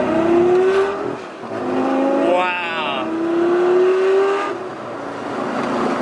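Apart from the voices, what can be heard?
straight-piped Lamborghini Gallardo Superleggera engine revving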